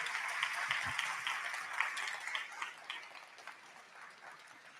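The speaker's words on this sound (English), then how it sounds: "Let's give all of our faculty and staff a nice big round of applause." A graduation audience claps for faculty and staff, a faint, thinning patter of scattered hand claps at a distance that tapers off quietly toward the end.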